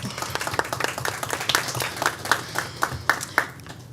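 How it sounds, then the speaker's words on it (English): Scattered applause for a class of DeKalb County Fire Rescue recruits at a county committee meeting, a few dozen hands clapping in a loose, uneven patter with some sharper individual claps, moderately close and building slightly toward the end. "Go ahead and give them a round of applause."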